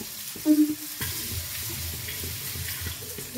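Fish frying in hot oil in a home kitchen gives a steady close sizzle, with a few sharp utensil clatters near the start and soft scraping throughout, with no talking.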